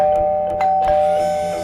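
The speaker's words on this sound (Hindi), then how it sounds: "मैंने डोरबेल बजाया।" A household doorbell rings in a crime-drama scene. It gives a sustained, clear electronic tone with a few soft knocks around it, loud and close, with no voices.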